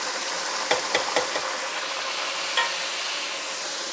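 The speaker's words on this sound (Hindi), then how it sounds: "अब मैं इसमें डाल रही हूँ लहसुन अदरक और ये सारे मसाले" Garlic, ginger and spices hitting onions frying in a pan for a dal, with a steady hot sizzle and a quick run of three or four spoon knocks early on, then another tap, close and loud, with no talking.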